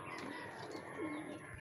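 A racing pigeon arriving at the loft during a pigeon race in Rosario, La Union, giving a soft cooing call near the end over a faint steady background hiss; no talking.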